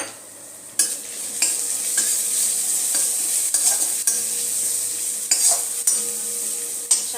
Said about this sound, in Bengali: পেঁয়াজ আদা রসুনটা আমার ভাজা ভাজা হয়ে গেছে, এর মধ্যে আমি এবার হলুদ গুঁড়োটা অ্যাড করে দিলাম